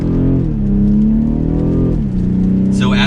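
A 2023 BMW X6 xDrive40i SUV pulls away, its engine note rising and shifting in a steady, fairly close drone before a brief higher noise at the end.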